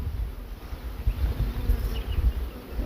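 Honeybees at a wooden beehive, a dense, continuous buzz of many bees swarming close by, steady and moderately loud with no talk.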